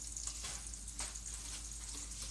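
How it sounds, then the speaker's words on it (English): Five strips of bacon sizzle steadily in butter in a frying pan, a continuous close crackle and hiss with no voices. "So I put butter in the frying pan. I put 5 strips of bacon in there."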